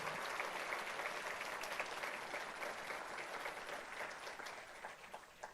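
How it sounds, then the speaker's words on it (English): Sustained applause from an audience at the 2022 State of the Latino Community Address in California, a steady dense wash of clapping that carries on at even strength throughout with no talk over it. "let's give them a round of applause"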